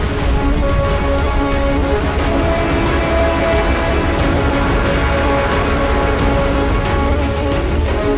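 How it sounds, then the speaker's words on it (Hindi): Heavy monsoon rain pours steadily on an Indonesian island, a dense, loud, continuous hiss and patter of drops with no pauses and no voices. "मॉनसून की बारिश ने गर्मी के मौसम के खत्म होने का इशारा कर दिया।"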